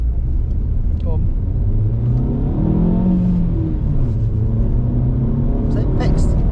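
An Alfa Mito Cloverleaf or Abarth 500 engine held under load, a loud close steady rumble and drone with the pitch rising and falling, and people talking over it.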